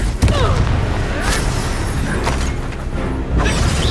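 A Confringo fire spell blast booms out in the Hogwarts Legacy video game, a loud explosive burst over a dense bed of combat effects, with voices speaking around it.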